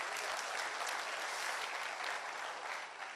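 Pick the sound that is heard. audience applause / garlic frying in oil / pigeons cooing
audience applause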